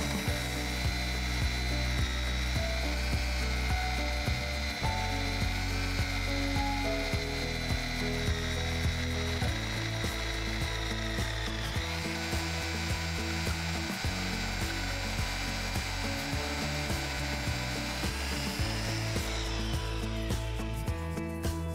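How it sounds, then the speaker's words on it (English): A rebar cutter bit drills through steel rebar, grinding and ratcheting at a steady pace close by, its pitch shifting as the cut progresses. "Always allow the cutter to penetrate the rebar at its own speed."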